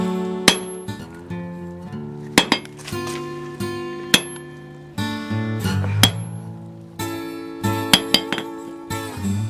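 Hammer dropped for a rebound test onto an old anvil sitting on the ground, each strike giving a bright ringing clink with sustained metallic tone, repeated about ten times at uneven intervals.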